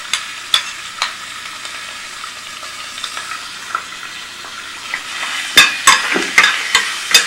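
Sliced beef stir-frying in sesame oil in a pan for beef seaweed soup, a steady close sizzle broken by sharp clacks and scrapes of a utensil stirring, growing busier toward the end; no talking.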